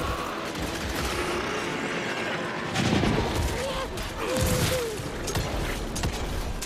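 Gunfire and heavy impacts in the action game Evil West, bursts of shots and booms swelling around the middle of the stretch over a dense, constant game score and effects, with a voice talking over it.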